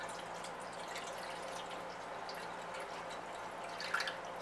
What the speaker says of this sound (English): so I'll just pour it in the side here until we half fill up to our actual baking dish itself